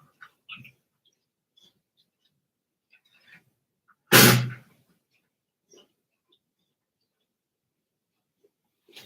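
A dog gives a single loud, rough hacking burst partway through, followed by a few faint wheezy breaths and small rustles in an otherwise quiet room.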